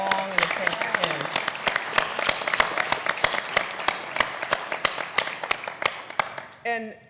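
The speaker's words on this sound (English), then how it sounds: "she deserves a huge shout out and a round of applause" An audience claps a round of applause at the opening remarks of a Federal Demonstration Partnership meeting. The crisp, dense clapping stays steady for several seconds, then thins out, and a voice comes in at the end.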